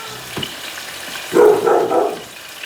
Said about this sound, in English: Sauteing here now. I'll let this saute a couple of minutes.